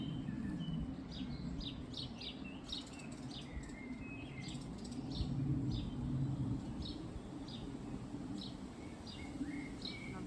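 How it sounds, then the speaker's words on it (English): A blackbird sings in a cottage garden, bright chirping phrases repeating over several seconds above a faint steady outdoor hush, with no talk. "Trudy Scrumptious, our blackbird, our female blackbird, and her husband are very welcome to them and their babies."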